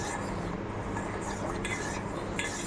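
Spoon stirring a mixture into milk in a pot for a mango fruit salad, with a steady scraping, clinking swirl against the pan and a low simmering background, continuous and close, with no talk.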